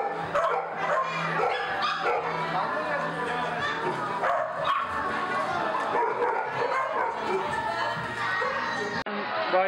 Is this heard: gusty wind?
no